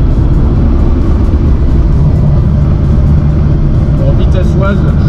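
A car cruising in sixth gear at about 80 on the road, a loud constant low engine and road rumble heard from inside, with someone talking over it.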